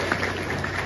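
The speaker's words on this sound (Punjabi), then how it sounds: "ਮੈਂ ਚਾਹੁੰਦਾ ਕਿ ਜ਼ੋਰਦਾਰ ਤਾੜੀਆਂ ਇੱਕ ਵਾਰੀ ਤਿਵਾੜੀ" Steady applause from a gathered crowd at a public event honouring MP Manish Tiwari, dense and continuous clapping held at an even level with no talk.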